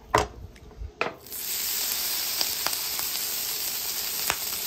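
Pork fat and butter sizzle on a hot griddle, a steady bright hiss that swells up after two sharp clatters at the start and keeps going with small pops, close and loud with no talking.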